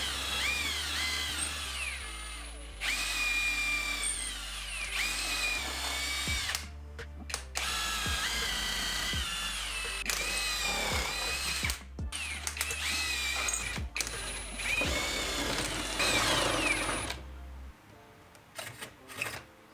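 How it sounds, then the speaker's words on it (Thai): A cordless drill whirs in repeated bursts, bit grinding a pilot hole into a piece of wood with ratcheting mechanical whine, stopping and starting several times. "ติดตั้งดอกสว่านเข้าไป เพื่อเจาะนำศูนย์ไม้ชิ้นแรกก่อน"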